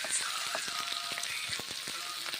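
Mixed vegetables fry in a pan while being stirred, a constant hissing sizzle with soft scraping taps from the spatula repeating close up.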